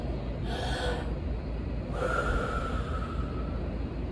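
Two deep breaths over a low background hum, a short inhale followed by a longer, softer exhale, close and fairly quiet.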